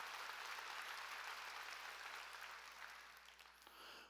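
A Korean church congregation claps together during a sermon, a continuous, fairly quiet wash of many hands that eases off slightly toward the end.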